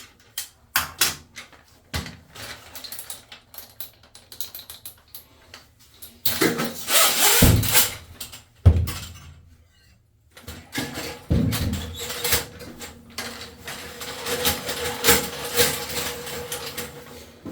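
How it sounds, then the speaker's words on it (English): A 6-foot Ridgid drop-head auger works inside a clogged Hennessy Hinchcliffe or Niagara Stealth toilet, producing irregular scraping, knocking and rattling bursts with short pauses, plus some loud clunks against porcelain. "We're gonna try using the auger. It's a rigid auger, 6 foot with drop head."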